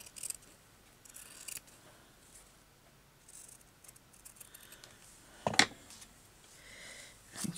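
Scissors trim material for a sewing journal page in a few quiet, close snips, with one sharper, louder cut near the end.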